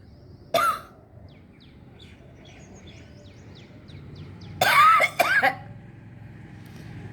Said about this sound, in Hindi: जो भी गले में खराश होती है, इस प्रकार खांसी आकर वो भी ठीक होती है